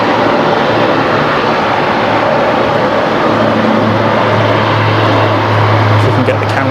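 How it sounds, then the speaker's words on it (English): A QantasLink Dash 8 turboprop takes off at Brisbane Airport with a loud, continuous propeller and engine drone, a low steady hum running underneath the rumble. "The Qantas Link Dash 8 heading off here. This might be pretty awesome with the props."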